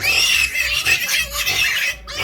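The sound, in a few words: piglets grunting under a heat lamp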